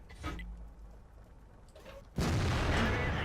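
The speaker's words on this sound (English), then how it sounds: "Does the Type 59 want to duel with me? Because he's going to get hit by artillery." In World of Tanks, an artillery shell strikes an enemy Type 59 tank: a couple of faint thuds, then a sudden loud, sustained boom that rumbles to the end.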